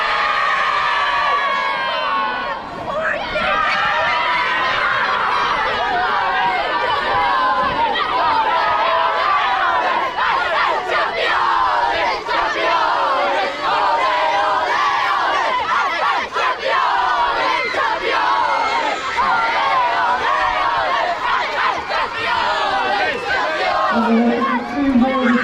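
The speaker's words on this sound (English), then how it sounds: "big cheer." A crowd at a school sports match between St Patrick's and CBC cheers loudly and keeps it up, many young voices shouting and yelling together without pause, close and strong throughout.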